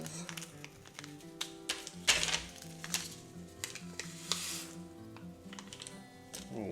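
Repeated crisp snips and taps, irregular and close, as scissors cut through glow-in-the-dark resin alongside light handling noises.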